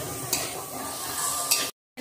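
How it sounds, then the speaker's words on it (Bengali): Small chicken pieces sautéed in spice paste in a pan, with a few spoon scrapes over a continuous frying sizzle before an abrupt cut to silence. "এবার চিকেনটাকে ভালো করে কষিয়ে নেওয়া হবে।"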